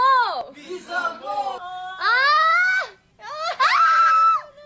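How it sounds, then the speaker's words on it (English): A woman screams loudly in several long, high-pitched bursts with wavering tone and short breaks between them, against a faint crowd-like background. "I love when she's screaming."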